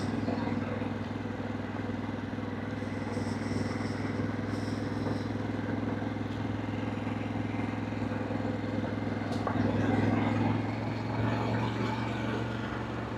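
A Harley-Davidson Pan America motorcycle rides a gravel road out of town with a steady, close engine drone. Continuous crunching road and wind noise run underneath, with no pauses.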